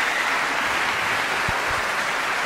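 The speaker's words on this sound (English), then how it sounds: "applause from the audience for both of them for a wonderful performance there" An audience in a concert hall applauds after a performance of Mozart's Piano Concerto No. 20, first movement, at a conductors' competition, a dense, even roar of many clapping hands held at steady loudness throughout.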